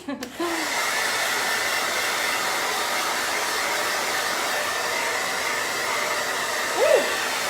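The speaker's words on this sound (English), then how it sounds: "I'm gonna blow dry this for just a second" A hair dryer runs steadily and fairly loud for several seconds, blowing glitter on a craft photo collage, with a brief higher pitched blip near the end.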